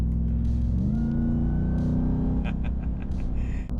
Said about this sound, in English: On this road, quickly, the sound of the supercharger makes itself known.